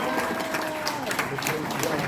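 Audience applause at an indoor national civic rally in a hall, steady dense clapping throughout, moderately loud and sustained.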